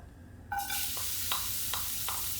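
Julienned carrot, seasoned with a little pepper and salt, is stir-fried in a pan for vegetarian japchae. A steady close sizzle starts abruptly and carries a few light scraping taps on top.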